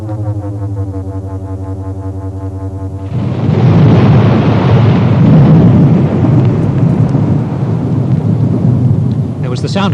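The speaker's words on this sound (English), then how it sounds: "There was the sound of a clap of thunder in my ears." A clap of thunder in a storm with hail: a low droning hum suddenly breaks into a loud, rumbling roar with a rushing hiss that carries on for several seconds before easing slightly, close and heavy.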